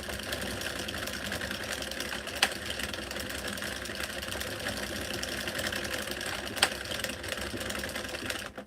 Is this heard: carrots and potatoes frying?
no